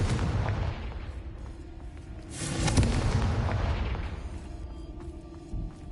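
A Confringo fire spell bursts in Hogwarts Legacy: a heavy, booming blast swells in the middle, then rumbles down over a steady low background roar, with no voices.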